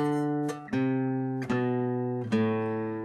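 A single guitar rings out a few sustained chords, struck roughly once a second, each decaying slowly; no one speaks.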